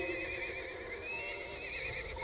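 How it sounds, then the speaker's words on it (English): A horse in the video game Secret World Legends neighs while jumping, a strained, continuous whinny over game noise, fairly faint and with no talk. "every time I jump, this horse sounds like it's being murdered"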